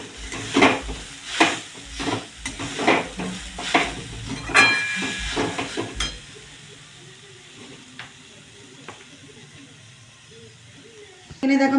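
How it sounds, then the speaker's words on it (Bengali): Grated coconut is stirred in a wok for dudh puli, the spatula scraping in repeated rhythmic strokes against the metal with a light sizzle, close and clear, then fading to quieter kitchen noise. "প্রথমেই নারকেলটাকে ভালো করে আমি একটু নাড়াচাড়া করে নেব কড়ার মধ্যে।"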